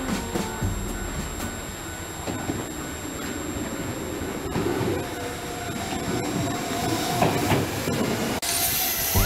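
A Japanese electric train on the Tobu Line rumbles along steadily with a constant hiss and faint rhythmic clatter, heard from inside or close by, with no voices.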